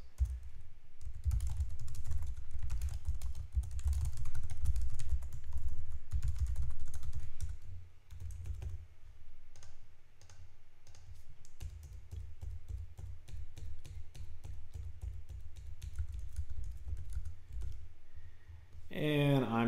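Someone types card details on a computer keyboard, giving a steady run of close, quick key clicks over a low background hum, with brief speech near the end.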